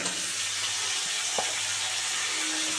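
Red pumpkin pieces sizzle in hot oil for a fish-head chachra, a steady close hiss and crackle with a couple of small knocks from stirring, and no voices.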